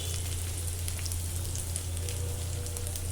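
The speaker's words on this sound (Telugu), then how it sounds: "ఈ విధంగా వేయించండి ముక్కలన్నిటినీ" Onion, green chillies and curry leaves fry in a pan with a constant close crackling sizzle over a steady low hum, with no pauses and nobody talking.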